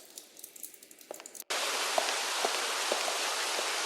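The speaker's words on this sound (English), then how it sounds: "I'll place the stone directly under the dripping water." Water dripping in a cave in the game Lost Horizon, soft isolated drips at first, then a sudden steady hiss like falling water with faint periodic drops beneath.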